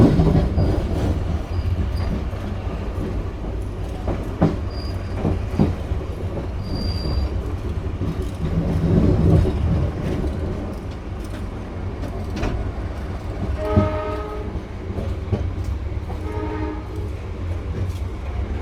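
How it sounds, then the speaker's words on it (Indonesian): A passenger train pulls into Cirebon Prujakan station and passes the Menoreh train, with a loud continuous rumble of wheels on rails, rhythmic clacking, and shrill squeals and horn-like tones in the later part. "Masuk stasiun Cirebon Perujakan, papasan dengan kereta api Menoreh."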